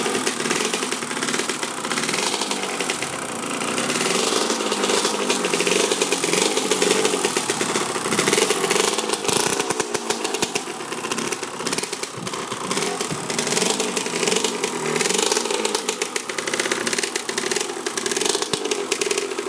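A 1993 Kawasaki KX 125 two-stroke dirt bike, just rebuilt, runs after one kick start. Its loud, raspy engine crackles close by at a steady, revving idle that wavers slightly, with no talk over it.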